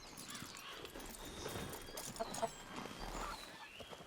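Faint video game hoofbeats from a donkey as a woman rides away from a cabin, with soft, scattered clops over a low ambient background.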